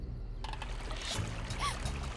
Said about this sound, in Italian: Questo deve essere il rumore del fiume.